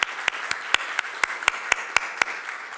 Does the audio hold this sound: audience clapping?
yes